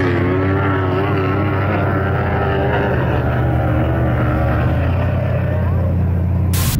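Off-road vehicles race up a big whooped sand dune at Glamis at night, their engines giving a steady, loud, layered roar with shifting pitch that runs through the whole stretch.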